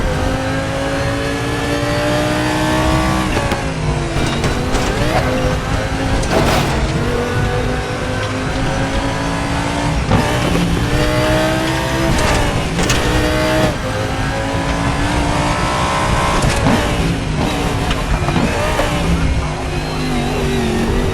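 Audi LMS race car engine in the RaceRoom racing game, loud and continuous, revving up and down through gear changes with steady high-pitched whine throughout, no talking.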